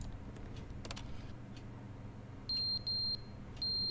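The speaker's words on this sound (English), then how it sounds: "Oh, smoke alarm has gone off." Smoke alarm in the video game Stanley Parable Ultra Deluxe sounds three sharp, high-pitched electronic beeps in quick succession toward the end, following a stretch of low background ambience with a few faint clicks.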